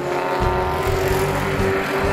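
A special-bodied Jaguar E-Type race car in a historic GT race at Castle Combe drives past with a steady, loud engine drone and a rising mechanical tone, with no voices.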